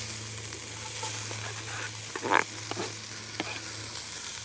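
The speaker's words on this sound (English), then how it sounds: "add the chicken drumsticks to it, let them cook a bit" Chicken drumsticks frying in oil in a preheated Dutch oven at a camp cookout, a steady close sizzle with clanks and scrapes of stirring, one louder clatter midway, and no talking.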